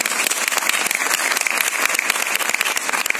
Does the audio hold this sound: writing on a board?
no